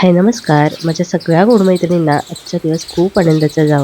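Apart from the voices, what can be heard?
sparrows chirping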